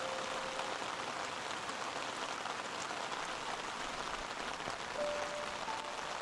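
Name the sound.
rain falling, sound effect in a horror story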